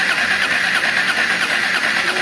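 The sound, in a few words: motorcycle engine running with abnormal engine noise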